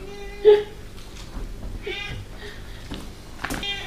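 A cat meows a few times, one short clear meow followed by softer, drawn-out ones, close by in a quiet room.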